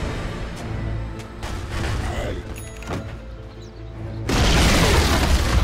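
A tower collapses in Dota 2 with a deep boom and crash that swells into a loud, sustained rumble of debris near the end, over layered game effects and low background music.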